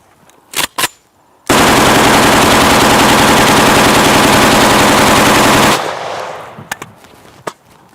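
A gun empties a .45 round magazine in one long, loud, continuous burst of rapid fire lasting about four seconds, preceded by two short clicks or shots and followed by a fading tail and a few scattered clicks.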